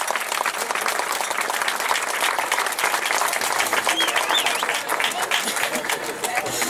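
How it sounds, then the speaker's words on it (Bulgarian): Steady applause from a crowd honouring class winners at the Shipka 2013 car race, dense continuous clapping that holds evenly throughout without a break. "Ето ги и победителите в клас Хикс 1, аплодисменти за тях."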